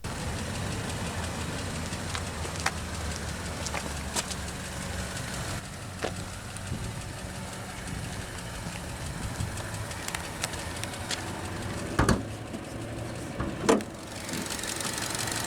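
A 2017 Chevrolet Trax LS with a 1.4-liter turbocharged inline-4 engine idles with a steady low rumble and faint ticking, continuous and close, with a few small clicks near the end.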